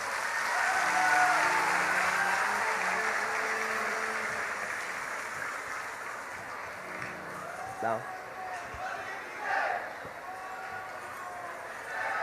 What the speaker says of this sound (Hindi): एक बार पुनः बागेश्वर धाम सेवा समिति महाराष्ट्र को ताली बजा करके धन्यवाद दो।